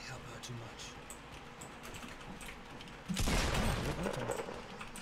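A close-range shotgun blast in Fortnite bursts out loudly and abruptly, followed by a short ringing tail, cutting over continuous game ambience and other battle noise.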